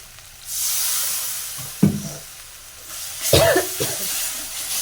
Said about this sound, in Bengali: একটু লঙ্কা গুঁড়ো দিলাম দিয়ে নাড়াচাড়া করতে হবে জল দিতে হবে দিয়ে একটু মশলাটাকে ভালো করে কষতে হবে